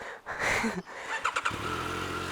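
A Yamaha YZF-R9 motorcycle engine starts up nearby after some handling noise, catching and settling into a steady, close idle with a few sharp revs along the way.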